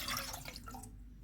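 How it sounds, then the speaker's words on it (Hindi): Water pours into a pan for strawberry lemonade, a short splashing, trickling stream that is fairly quiet and then stops abruptly, with no talking. "पैन में 1 कप पानी डालेंगे"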